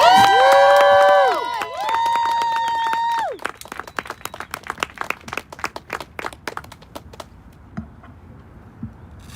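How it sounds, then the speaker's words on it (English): Applause and cheering from an outdoor political rally crowd in Washington DC, rising after loud sustained tones and continuing as scattered, close clapping that thins out toward the end. "give her a big round of applause"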